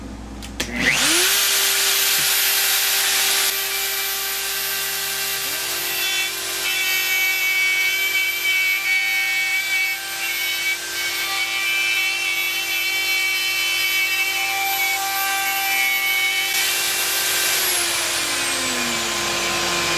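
A plunge router on a circle jig makes shallow circular cuts in wood, a loud high-pitched motor whine that spins up and holds steady with a rough grinding cutting noise for the whole stretch, close and with no talking.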